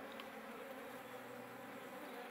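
Honey bees (Apis mellifera) hum steadily at an open hive, a dense, continuous buzz heard up close with no voices over it.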